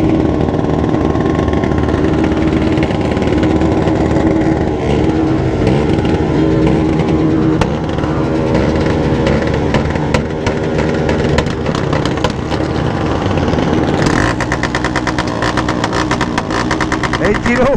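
A motorcycle with its exhaust pipe removed revs loudly and raggedly up close at a crowded street gathering, a continuous raw engine roar with sharp throttle blips, while people shout and talk over it.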